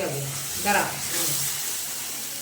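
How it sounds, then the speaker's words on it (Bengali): Water is poured into a hot pan of cabbage curry, giving a hissing sizzle and splashing that swells partway through and carries on steadily at moderate loudness. "বন্ধুরা এবার দিয়ে দেবো জল"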